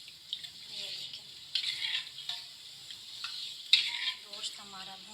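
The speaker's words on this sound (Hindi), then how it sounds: "गोश्त हमारा भून रहा है।" Meat for nihari frying in a pot gives a soft sizzle broken by several scrapes and stirs of a spoon against the metal, close and moderately quiet.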